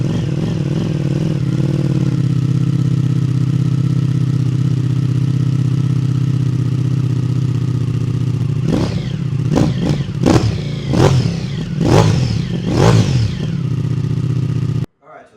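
A Ducati Pikes Peak motorcycle with a full Akrapovic exhaust idles loudly and steadily after a cold start, then gets several sharp throttle blips that rise and fall before the engine cuts off.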